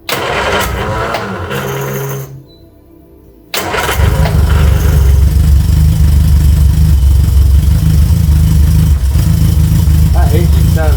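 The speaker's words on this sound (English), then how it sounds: "That engine sounds good." The petrol engine of a Reliant Regal Supervan 3 runs with a steady, loud low rumble after a brief lull, with people talking over it at times.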